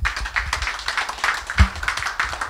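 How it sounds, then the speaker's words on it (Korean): Audience clapping to welcome a lecturer onstage at a Korean history forum; scattered, moderately close hand claps, fairly sparse and uneven, with one stronger low thump partway through. "박수로 맞이해 주십시오."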